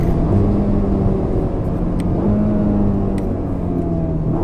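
A Ferrari Roma's engine drones loudly and steadily up close, its pitch rising in stretches as it accelerates to about 100 mph on an empty desert road, with constant road rumble underneath.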